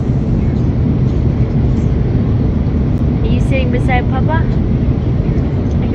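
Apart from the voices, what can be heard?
airplane cabin noise in flight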